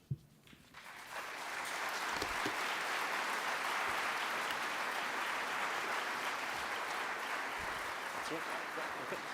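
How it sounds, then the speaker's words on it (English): An audience at the Christopher Hitchens debate on God breaks into applause after closing remarks, a brief final word giving way to loud, sustained, even clapping that fills the hall to the end. "final round of applause for both Mr. Christopher Hitchens and Mr. Larry Taunton"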